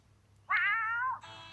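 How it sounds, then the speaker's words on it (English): A single cat gives one clear, close meow followed by a brief higher-pitched tail, against quiet low background rumble. "there's a cat."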